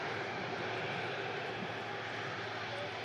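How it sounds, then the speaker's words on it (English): A passenger airliner arriving from Toronto roars steadily overhead, a broad, constant engine rush that fills the whole moment without letting up. "There's aircraft in from Toronto."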